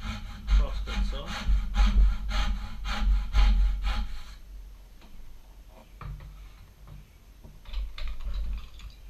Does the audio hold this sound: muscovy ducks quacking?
no